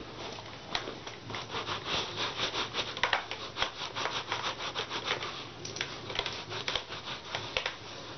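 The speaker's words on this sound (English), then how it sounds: "Just dry this cloth and rub it on the bag." A dry cloth rubbed back and forth over a handbag during cleaning, making a steady close scratchy friction with quick repeated strokes and no talking.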